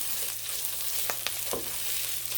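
Kashmiri chilies and curry leaves fry in hot oil with the stove just turned off, giving a steady soft sizzle with a few light crackles and stirring taps, close and without speech.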